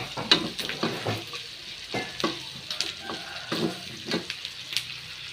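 Shallots fry with pork belly in a pan, a continuous sizzle broken by repeated scraping stirs and clinks of a utensil against the pan, close and moderately loud.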